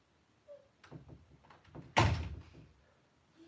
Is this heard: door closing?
yes